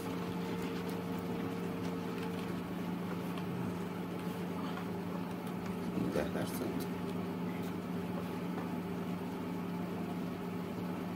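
A steady, droning motorcycle engine hum in the video game Days Gone runs throughout, with a voice talking over it.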